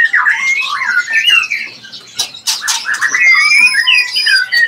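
Loud, busy cucak cungkok bird calling close by: bubbly warbling whistles and squawky notes that carry on without a break, with a few sharp bursts partway through.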